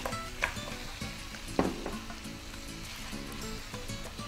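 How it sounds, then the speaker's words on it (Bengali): Chicken pieces go into cumin-spiced paste frying in a pot, producing a steady close sizzle and crackle with a couple of louder clattering hits as the meat is dropped in and stirred. "কষানো হয়ে গেছে। আমি মুরগি দিয়ে দিচ্ছি।"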